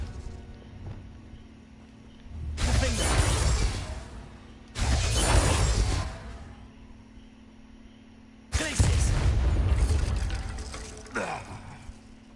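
The Bombarda spell in a Harry Potter video game, three loud whooshing blasts with crackling, shattering tails, separated by short quiet gaps.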